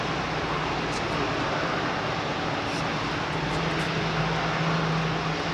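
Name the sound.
Rolls-Royce Trent airliner engines at Heathrow Airport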